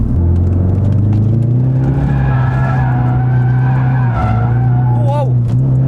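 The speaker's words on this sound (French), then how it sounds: "Ford Focus en drift" A 360 hp four-wheel-drive Ford Focus RS drifting, its engine droning steadily loud up close while the tires skid and squeal with rising and falling whines, and people talk over it.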